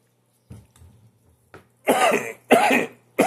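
A person coughs three times in quick succession, near and loud, after a few faint soft sounds and a brief throat noise.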